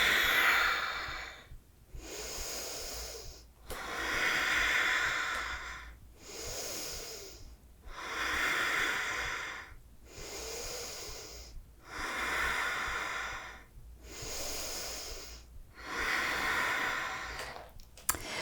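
Slow, deep yoga breathing held through poses, about seven long audible inhale-exhale cycles with a soft airy hiss, close to the microphone and evenly paced, with no talking over it.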